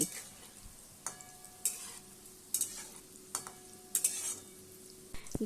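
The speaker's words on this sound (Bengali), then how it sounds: "আবারও বড়াগুলিকে উল্টে পাল্টে ভালো করে ভেজে নিতে হবে।" Lentil fritters frying in oil and being turned over, a low steady sizzle with several sharp clacks of a spatula against the pan at intervals, fairly quiet and with no talking.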